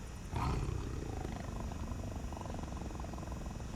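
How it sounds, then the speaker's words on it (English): Unseen creature growls beneath the ground in a hole-digging game, a low, continuous rumbling roar like a big cat that swells briefly at first, then holds steady and muffled throughout. "there's definitely something growling down here"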